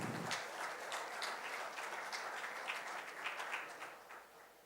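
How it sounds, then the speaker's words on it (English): Applause from an audience welcoming dignitaries onto the stage at the PACC 2025 inauguration, a fairly faint, dense wash of clapping that holds steady and slowly tapers. "With a big round of applause, let's welcome both the dignitaries on the stage,"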